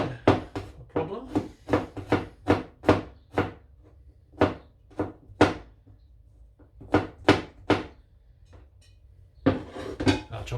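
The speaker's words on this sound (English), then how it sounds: "I'll chop them all and then I'll show you" A knife chops garlic on a board in a home kitchen, giving a series of sharp, close thunks in irregular bursts with pauses between them.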